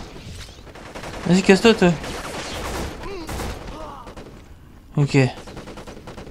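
Gunfire in the PS2 shooter Black, rapid bursts of automatic shots at mid distance, with louder blasts around the middle and near the end, under excited French talk from a player.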